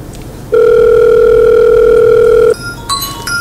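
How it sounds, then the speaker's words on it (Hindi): A steady electronic telephone tone rings loudly for about two seconds, then cuts off into quieter electronic beeps. "अरे बिटिया का फोन आ रहा है।"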